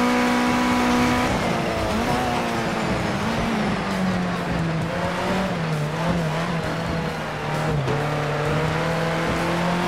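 Race cars in Project Cars 2 roar past with a loud, continuous engine whine that rises and falls through gear changes, with tyre squeal mixed in and no speech.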